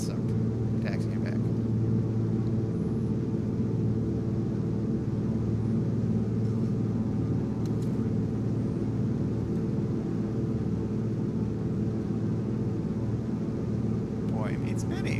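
A DHC-2 Beaver floatplane taxiing on water in a flight simulator game, its engine a steady, continuous low drone throughout, moderately loud, with no speech.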